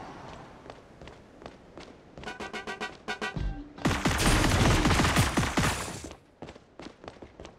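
Walking barrage gunfire in the mobile game Marvel Super War: quick rapid-fire bursts build into a loud, dense roll of explosions and shots for a couple of seconds before fading back to quieter game sounds.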